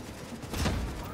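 A grenade explodes in the shooter game Tom Clancy's The Division, giving a short, muffled, booming blast that swells suddenly and fades within a second.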